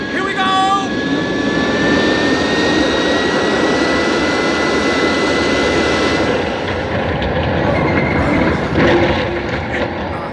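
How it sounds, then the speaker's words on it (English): A radio-drama effect of a spacecraft crash-landing on the Moon in a 1959 science-fiction serial: a loud, steady engine roar with thin whistling tones that slide down, filling the whole stretch. "I'm aiming towards a small crater. Stand by for crash landing."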